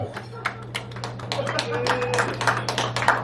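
Scattered, thin clapping from a small comedy-club crowd, a few separate hand claps that pick up into a loose patter, with a steady low hum from the room.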